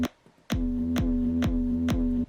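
Kick drum layered with a long 808 bass note in FL Studio, each punchy kick landing on a sustained booming tone, repeating steadily about every half second, loud and alone with no talk.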